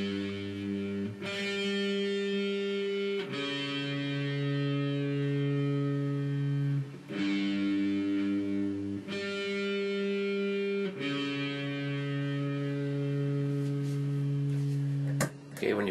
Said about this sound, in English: when you play it, you just keep the distortion on, but just play it really softly